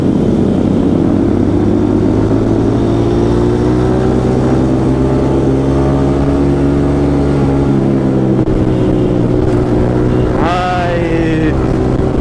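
A Yamaha MT-15 motorcycle engine hums steadily at cruising speed for a long stretch, then revs up sharply near the end of the ride, close and loud with no talking.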